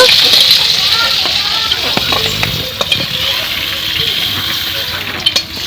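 Fish heads frying in hot oil in a home kitchen, a steady bright sizzle with occasional crackles and pops, close and continuous throughout.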